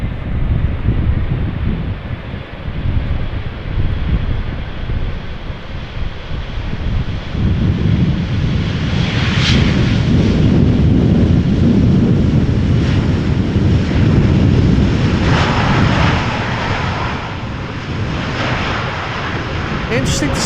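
Airplane rolling slowly past after landing at Amsterdam Schiphol Airport in gusty crosswind, a loud steady engine roar heavily buffeted by wind noise on the microphone, sustained throughout.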